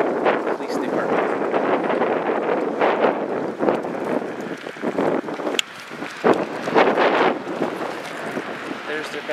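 Gusty wind buffets the microphone in loud, uneven rumbling bursts, with a person's voice partly audible beneath the roar.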